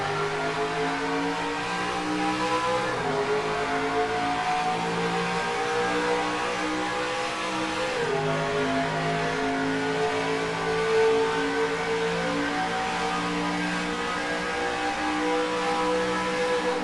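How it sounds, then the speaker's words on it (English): Race truck engines in NASCAR Racing 2003 roar at a green-flag start on the Toronto Lakeshore circuit, a loud layered drone whose pitch climbs and drops with each upshift. "Green flag flies for the first playoff race of the NFRN Truck Series."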